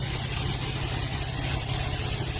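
A 2003 Nissan 350Z idles steadily with an exhaust leak and a misfire, giving a constant low engine drone with faint ticking, heard up close with no talking.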